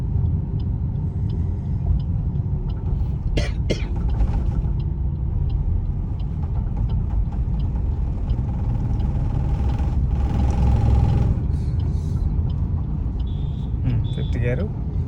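A Suzuki Swift cruises in fifth gear through traffic without accelerating, its engine giving a steady low rumble from inside the cabin, with occasional faint clicks and road noise throughout.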